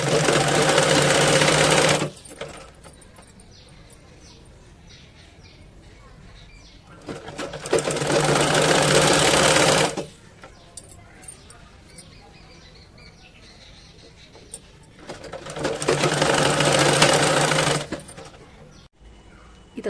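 An electric sewing machine runs in three bursts, each about two to three seconds long, while a baby top is stitched. Quiet pauses fall between the bursts, and faint movement sounds and handling noise fill the gaps.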